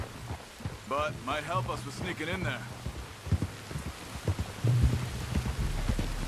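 Steady rainfall in the Red Dead Redemption 2 video game hisses across the whole scene, with someone speaking over it and scattered thuds and hoofbeat-like clops underneath.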